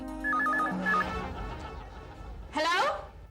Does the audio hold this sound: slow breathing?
no